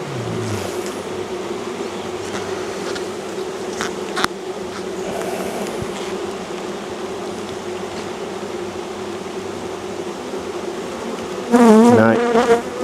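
Honey bees buzzing steadily around an open hive during a brood inspection, a close, continuous drone with a sharper buzz near the end.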